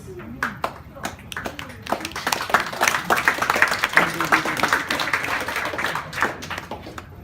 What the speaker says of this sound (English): And the applause has run out.